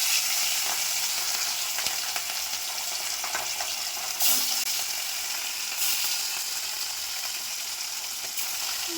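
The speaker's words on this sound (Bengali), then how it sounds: "এখানে মাছ ভাজা করে নিয়েছি সব কিছু দিয়ে। এবার মাছটা ভেজে নেব।" Fish fries in a pan with a steady, crackling sizzle of oil, broken by a few sharp scrapes and clicks of stirring, with no talking.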